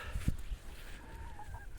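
Hens cluck softly nearby, a few short low calls and a drawn-out murmuring cluck, with a light thump at the start.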